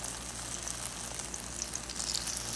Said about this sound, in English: So heat the pan with oil and start frying them.